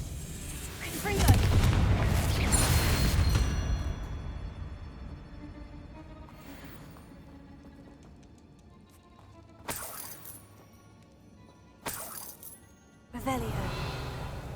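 Confringo blasting spell explosions in the Hogwarts Legacy video game, a loud booming burst early on, then a long fading rumble, followed by several sharper bangs, with speech heard in the clip.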